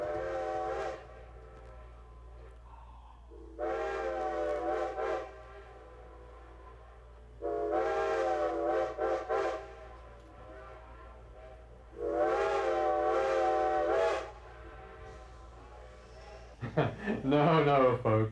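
Steam locomotive whistle at a grade crossing on the Strasburg Railroad, four long harmonic blasts spaced apart, each answered by fainter echo-like tails across open country, ending with a brief louder rising burst.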